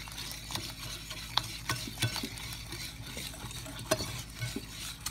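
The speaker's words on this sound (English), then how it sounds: "I want to make sure that I get it all in and everything is well blended together." A spoon works through low-carb, gluten-free coconut cookie batter with an egg in it, scraping and clacking against the bowl in quick, uneven strokes. The sound is close and there is no talking.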